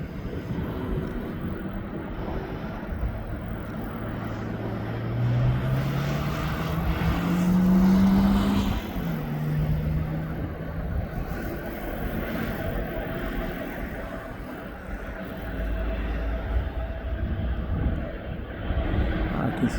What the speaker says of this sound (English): That 777 from Cincinnati is just taxiing now.